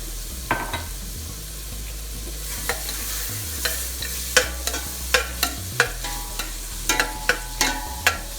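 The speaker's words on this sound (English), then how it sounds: "We're going to first melt down the butter. Okay, now let's go ahead and add the onions." Onions sizzling in melted butter in a pan for a green chile sauce, a constant frying hiss with a low hum beneath and a run of sharp spoon taps and scrapes growing more frequent, close and fairly loud.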